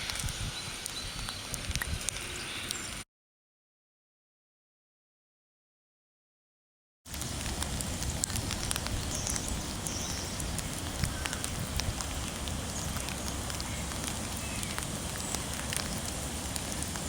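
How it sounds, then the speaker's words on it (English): Rain falling steadily on a hike along the Appalachian Trail near the Maryland–Pennsylvania border, a constant broadband hiss with scattered drop patter, broken by a few seconds of total silence partway through. "As you can tell, it's raining today"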